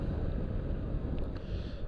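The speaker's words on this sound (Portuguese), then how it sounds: "Se tinha que vir o vento." Steady wind buffeting a motorcycle vlogger's action camera microphone on a ride in Portugal, a loud continuous low roar with gusty rumble and no speech.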